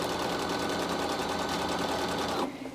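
A sewing machine with a number 23 foot stitches piping onto a quilt, a rapid, even mechanical chatter running close and loud before stopping abruptly near the end.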